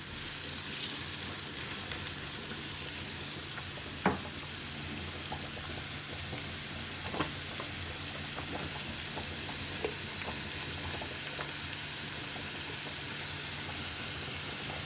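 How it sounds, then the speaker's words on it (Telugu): Onions and slit green chillies frying in a pan for a vankaya fry, a steady low sizzle running the whole time with a few faint clicks of the utensil, no voices. "2 మీడియం సైజ్ ఉల్లిపాయలు వేసాను."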